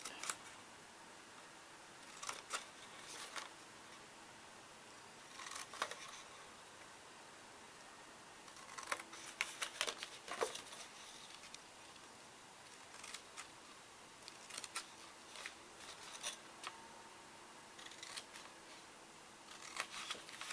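Scissors cut a slit into paper pieces for a house-shaped box, giving faint, quiet snips in small scattered bursts over a hushed room background.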